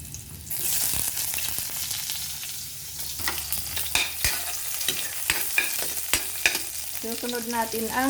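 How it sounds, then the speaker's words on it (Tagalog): Garlic dropped into hot oil in a pan for an ampalaya-with-eggs dish, giving a loud steady sizzle with stirring scrapes and clatter throughout; no talking. "Ihuhulog muna natin ang bawang."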